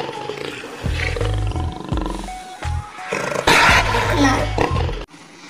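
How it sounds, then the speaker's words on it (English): A Royal Bengal tiger roars loudly and close in a series of deep, rumbling bursts with short pauses, filling the clip. "Wow, Royal Bengal Tiger."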